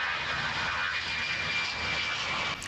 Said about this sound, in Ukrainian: За менш як 10 хвилин літак Ан-72 набирає висоту в 5 тисяч метрів